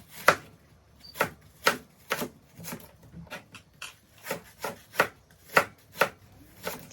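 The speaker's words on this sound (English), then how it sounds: "dice up the rest of the onions for going inside my blender" A knife chops onions on a board in a steady series of crisp, close strikes, roughly two per second, with short pauses and no talking.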